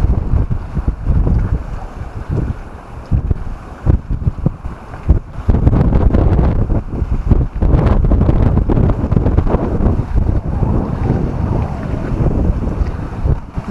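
Strong wind roars steadily across the microphone aboard a sailboat heading toward a marina, with gusty buffeting and the wash of water and waves beneath, loud and continuous throughout with no talking.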